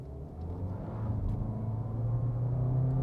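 A Toyota C-HR engine pulling from a standstill at full throttle on a wet incline, a low, steady rumble that builds gradually, heard from inside the car, fairly quiet.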